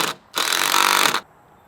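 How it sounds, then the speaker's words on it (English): A power drill drives a screw into wood while framing a chicken run: a short burst of motor whine, then a louder, sustained grinding spin of about a second that cuts off abruptly, close and alone. "pushing the screw in and holding the piece and holding the drill"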